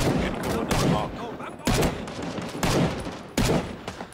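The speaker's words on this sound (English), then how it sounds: "I hear artillery!" Heavy gunfire and explosive booms in the Vietnam War shooter Rising Storm 2: Vietnam, with about four loud, sharp blasts spaced roughly every second or two over a continuous roar of battle noise.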